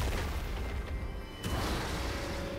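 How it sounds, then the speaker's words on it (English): A turret is destroyed in League of Legends with a single low boom that rises sharply partway through and fades into a rumbling tail over ambient game noise. "Red team's turret has been destroyed."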